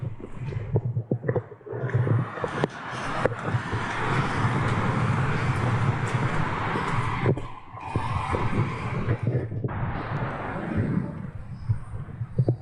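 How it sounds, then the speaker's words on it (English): Gusty storm wind buffets the microphone at the edge of Clevedon while traffic rushes past nearby, a steady roar that swells and drops with a few brief lulls. "You can hear the wind and the traffic already."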